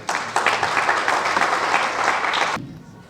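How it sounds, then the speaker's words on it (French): An audience at a Senegalese diploma ceremony for accountancy teachers claps together, a dense, lively burst of applause with a few individual claps standing out, stopping abruptly near the end. "Et applaudissez la classe, s'il vous plaît."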